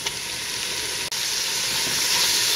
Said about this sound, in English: Now we'll add our raw extra large king prawns.